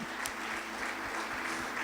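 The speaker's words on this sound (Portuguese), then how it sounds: "Dá mais um aplauso a ele aí, irmãos, essa manhã." Church congregation applauding, an even wash of many hands clapping that sounds fairly distant and muted, with no break across the stretch.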